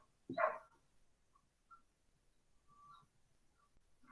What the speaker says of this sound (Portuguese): Tem uma cachorrada aqui perto da minha casa hoje,